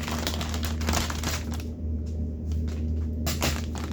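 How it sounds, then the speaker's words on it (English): A plastic grain bag rustles and crinkles as its corner is cut off, with short crackling bursts and a brief quieter pause partway through, heard close up. "And then we're going to do the same thing with our grain bag, but we're just going to cut the corner off."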